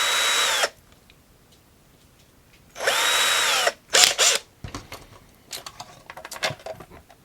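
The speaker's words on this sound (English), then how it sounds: "stick this in our drill" Power drill boring a pilot hole for self-tapping screws, two loud sustained whirring bursts with a pitch shift, followed by short rattling and clattering handling noises.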